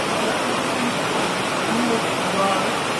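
Heavy rain pours steadily in Uttarakhand's Uttarkashi, a dense, unbroken hiss close by with no pauses, loud throughout.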